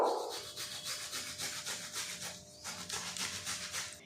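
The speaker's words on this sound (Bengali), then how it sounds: "গ্রেটারের সাহায্যে টমেটো গ্রেট করে নেব।" A tomato is rubbed back and forth across a grater, producing a steady, rhythmic rasping scrape with regular strokes, close and continuous for several seconds.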